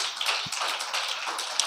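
Church congregation clapping during a sermon, a dense, steady patter of many hands slightly distant in a hall, with no voices over it.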